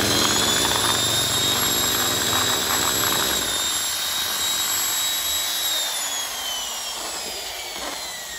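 An electric hammer drill, a Hitachi 100V tool, runs steadily with a loud continuous whine and buzzing motor drone that tapers slightly as it winds down, heard up close with no talk.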